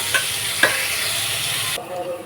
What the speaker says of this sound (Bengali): তো পেঁয়াজগুলো দিয়েও ভালো করে ভেজে নেব